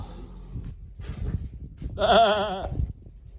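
A single loud goat bleat, wavering and nasal, amid rustling and shuffling noises nearby as goats eat alfalfa off a four-wheeler.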